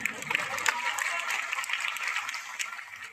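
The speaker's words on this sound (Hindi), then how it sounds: "जोरदार ताली होनी चाहिए भाई के लिए।" An audience at an anniversary celebration event applauds steadily, a dense, moderately distant wash of many hands clapping that holds throughout.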